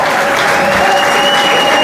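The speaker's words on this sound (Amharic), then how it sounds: "ለጌታ ለኢየሱስ እልልታ" A large church crowd cheers and ululates in praise of Jesus, a dense, loud, continuous wash of voices and clapping with high trilling ululation running through it.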